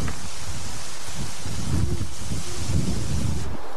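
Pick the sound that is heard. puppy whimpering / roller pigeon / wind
wind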